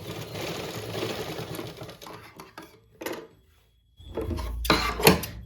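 A sewing machine stitches fabric for a straight pant, running in close bursts with short pauses and a louder final run, heard alone with no talking.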